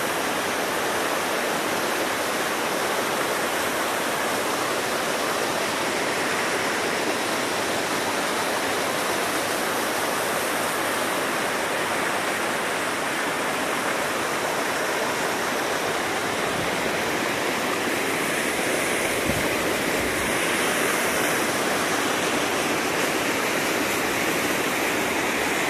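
A mountain stream near a Hmong hydroelectric plant in Cao Bằng rushes steadily and loudly throughout, a dense unbroken roar of water with no talk over it.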